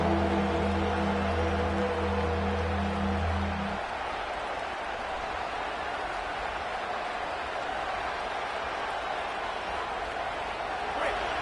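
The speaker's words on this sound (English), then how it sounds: "listen to this crowd noise. This stadium is vibrating." Stadium crowd roar at a Utah versus UCLA college football game, a dense, loud, sustained wash of noise throughout, with a low tonal hum in the first few seconds.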